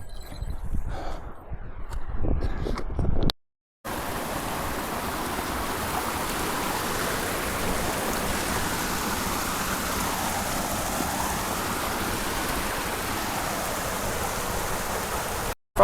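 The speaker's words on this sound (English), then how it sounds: "Found the river." Mountain river in Juta Valley, Georgia, heard as a steady, loud, broadband rush of flowing water that continues without a break after a short, rougher opening stretch.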